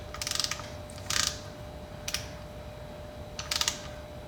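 A bolt being snugged up on a Harley-Davidson primary, giving four short bursts of ratchet-wrench clicking at close range with quiet pauses between them and no voices.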